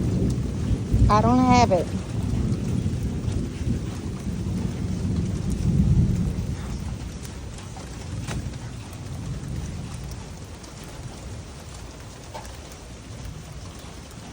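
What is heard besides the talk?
rain and thunder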